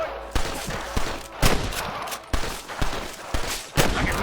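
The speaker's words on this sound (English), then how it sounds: "I can hear more gunshots." Rapid bursts of gunfire in the game Red Dead Redemption, several sharp shots in quick uneven succession, loud and close, with no talking.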